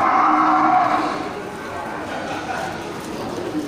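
Cattle low loudly and repeatedly at a busy village livestock market at Geurugok, with a strong moo at the start, crowd chatter and background noise continuing throughout.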